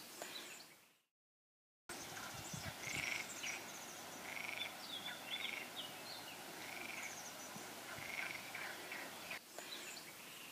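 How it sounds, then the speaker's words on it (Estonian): Frogs call from a pond at night, a chorus of repeated croaks and trills pulsing over a soft insect background, steady and moderately distant after a brief drop to silence near the start. "konnatiigis käib vilgas suguelu"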